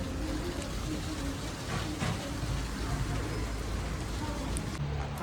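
Rain falls steadily outdoors, a constant broadband hiss with no breaks, fairly loud and close throughout.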